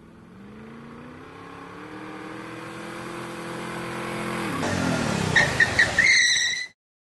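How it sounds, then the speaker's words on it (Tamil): A vehicle is driven fast with its engine revving harder and rising in pitch for several seconds, growing louder before a burst of high whining at the peak and an abrupt cut to silence. "வண்டி ஓட்டுறா, ரைடு ஓட்டுறா."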